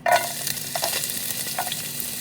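Garlic dropping into hot oil with sweet mini peppers and ginger for tinolang manok, a sharp sizzle at the start settling into a steady frying hiss with occasional stirring scrapes.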